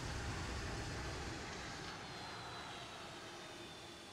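An Embraer E195 airliner lining up on the runway in the X-Plane 11 flight simulator, heading from San Diego, its engines giving a steady, broad roar that eases slightly in level over a few seconds, with no talk over it.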